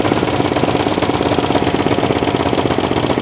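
Honda GX75 small engine running on choke, a steady dense mechanical drone with fast knocking pulses, loud and close throughout without talk.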